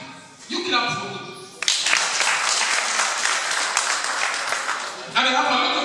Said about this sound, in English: You clap for me.